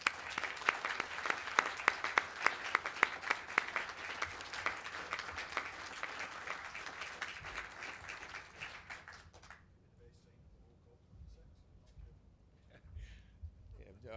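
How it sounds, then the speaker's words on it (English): A crowd at the Operation Zero launch event applauds with loud, dense clapping for several seconds, then it thins out and fades to quiet room sound. "join me in a round of applause celebrating these signatories"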